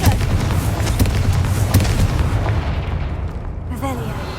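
A Confringo fire spell goes off in Hogwarts Legacy as a loud, booming blast with a heavy rumbling body that slowly fades over several seconds. A brief voice-like sound is heard near the end.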